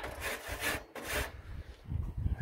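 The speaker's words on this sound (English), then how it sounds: "I use a barbecue, metal barbecue brush to clean it out like that" A metal barbecue brush scrubs out the clogged burn area of a pellet stove, giving close, steady scraping and rasping strokes in a repeated back-and-forth rhythm with brief pauses, no voices.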